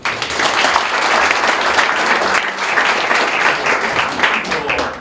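Steady, dense applause from a large crowd at a high school taekwondo poomsae team founding ceremony, loud and sustained throughout with no break.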